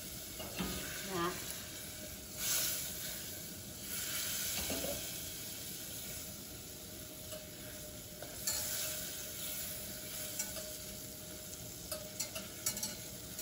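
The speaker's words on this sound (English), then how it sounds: "first we heat some butter in a pan. And we let it melt." Butter melting in a pan gives a soft, steady sizzle with occasional light stirring scrapes, fairly quiet and close, with faint speech in the background.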